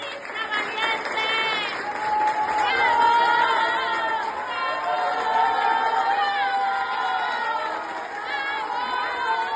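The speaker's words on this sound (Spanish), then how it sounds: "trabajadores del máximo tribunal la recibieron entre aplausos" Court workers at Mexico's Supreme Court applaud Norma Piña after her resignation, a steady round of clapping throughout, mixed with crowd chatter and voices talking over it.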